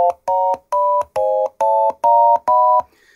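An Arduino penny organ plays major chords with automatic inversions as eight short, evenly spaced electronic tone bursts. Each chord is a bright, buzzy beep, clear and close, followed by a brief silence.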